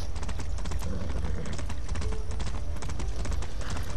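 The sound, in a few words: horse hooves clip-clopping in video game Far Cry 6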